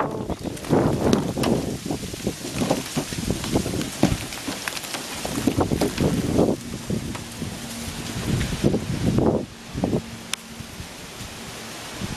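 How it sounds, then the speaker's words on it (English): Wind gusting through an October snowstorm in Connecticut, a loud broadband rushing and rustling that surges and eases in waves before dropping quieter toward the end. "And the wind blows."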